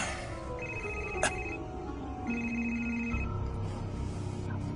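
A telephone rings in a home setting, two clear electronic ring bursts with a short gap between them, fairly loud against a quiet room with faint background noise.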